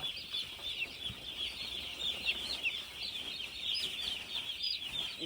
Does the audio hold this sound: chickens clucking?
yes